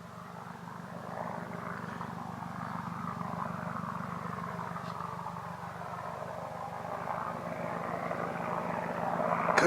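An Apache helicopter passes overhead near a tree line at dusk, heard as a steady rotor thump and engine drone that grows gradually louder toward the end, with no talking.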